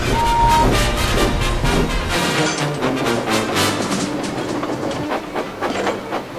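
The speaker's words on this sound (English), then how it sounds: "the engines puffed happily to and from the station" A steam train rumbles past with steady rhythmic clickety-clack of wheels on rails, loud and close, with a brief whistle tone at the start.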